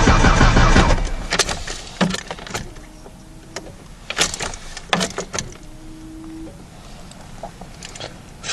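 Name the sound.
2018 Ford Ranger starter cranking during cold start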